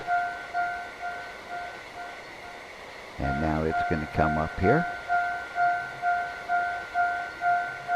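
Trains running in the A-Train railway simulation game, a rhythmic rumbling clickety-clack under a steady tonal hum, with a burst of horn-like tones midway and someone speaking briefly.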